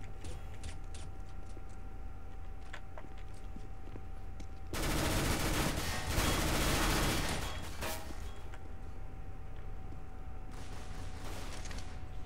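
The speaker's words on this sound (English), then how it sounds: "One shot with pistol." Rapid gunfire in Counter-Strike: Global Offensive, a steady run of quick sharp shots over background game noise, rising into a loud dense burst midway and then thinning back out to scattered shots.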